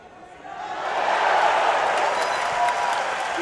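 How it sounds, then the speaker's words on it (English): A large arena crowd at a European judo championship roars and applauds after an ippon throw, a sustained swell of cheering and clapping that builds and holds at full volume. "That's why the crowd screaming."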